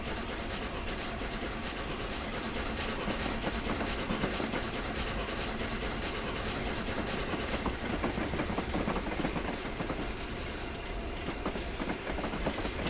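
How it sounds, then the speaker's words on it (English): Steady, dense hiss of steam venting from the Flying Scotsman steam locomotive as cold water is fed into its boiler, a continuous broadband rush with faint clanking underneath, no voices. "Lots of steam coming out."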